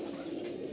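Green-necked Punky pigeons coo in a steady, close, low murmur that runs without a break.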